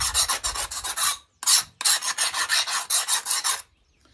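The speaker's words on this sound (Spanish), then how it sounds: "Para eso vamos a utilizar la lima para hacer la prueba de lima." A steel file drawn across a hardened Damascus ladder-pattern knife blade: loud, close, gritty rasping in quick repeated strokes, a brief pause, then another run of strokes before it stops.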